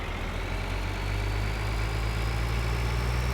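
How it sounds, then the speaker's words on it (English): Tractor trailer engine in the video game Farming Simulator 2013, a steady heavy low idling rumble, close and continuous with no voices. "so let's get this tractor trailer out of the way"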